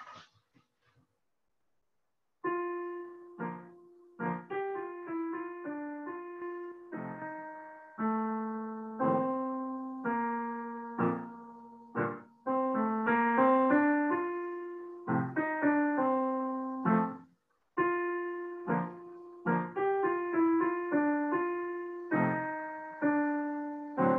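Orchestra plays the unhurried, graceful melody from Amneris' entrance in Verdi's Aida, clear sustained phrases rising and falling in a steady flow after a short silence, with no voices over it.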